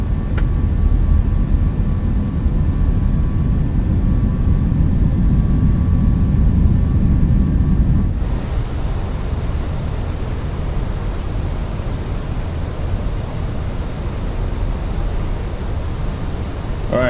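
Steady loud engine roar and airflow rumble fill the cabin of an Airbus A319 airliner during a sharp turn. The drone changes character partway through and continues unbroken, with no one speaking.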